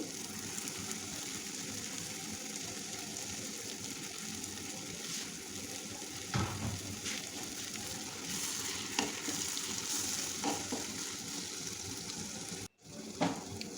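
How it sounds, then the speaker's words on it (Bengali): Olives frying in oil with already-fried garlic for an olive pickle: a continuous, even crackling sizzle, close and moderately loud, with a few brief clatters and no talking. "রসুন ভাজা হয়ে গিয়েছে এখন আমি দিয়ে দিচ্ছি জলপাই"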